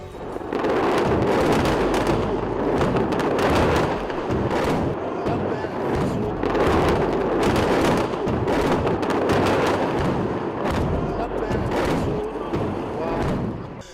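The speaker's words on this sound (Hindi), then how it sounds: "आईडीएफ की नॉर्दर्न कमांड के डाडो बेस और अमियात बेस पर भी हिजबुल्लाह ने रॉकेटों का जत्था फायर किया" A Hezbollah rocket barrage fired at Israeli army bases produces a dense run of rough, repeated launch blasts and thuds, loud and crowded together, with a couple of short lulls between volleys.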